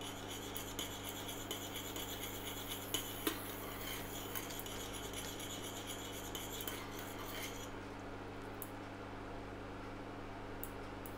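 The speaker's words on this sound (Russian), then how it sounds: "обязательно постоянно помешивайте ваш сироп во время приготовления" A spoon scraping and stirring agar syrup in a saucepan, soft continuous rubbing and clinking at close range with a few sharper taps, then fading quieter near the end.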